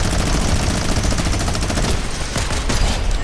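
Sustained rapid automatic turret gunfire in the video game Fortnite, a dense continuous burst of loud shots running the whole stretch with a few sharper cracks near the end and no talk.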